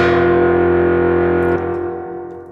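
Synth tone from the SynthStamp ARP 2600 emulation on iPad, heard with its filter at work: a loud, rich, buzzy sustained note with distorted overtones, the top dulling as the filter closes and fading slightly after a change midway. No talking.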